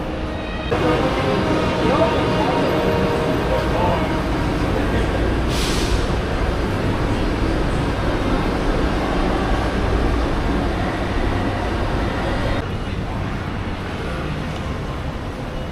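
Tram ride to Xinbeitou in Taipei, a steady rumbling rail car interior with continuous wheel and motor noise at an even level, with a brief hiss near the middle and a slight drop toward the end.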